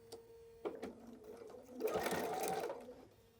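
A sewing machine stitches fabric for an eight-pocket tote, starting with a few brief clicks before a steady, close mechanical whir builds and then trails off.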